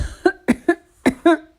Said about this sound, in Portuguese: pondo-se a tossir para limpar a garganta